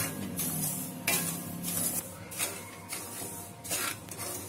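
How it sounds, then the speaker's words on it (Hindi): Semolina lightly roasting in a kadhai for gulab jamun, heard as a spoon scraping and knocking against the metal pan in repeated strokes roughly every second, close and moderately quiet. "मैंने ये जो सूजी लिया हुआ है इसको हम कढ़ाई में डाल देंगे"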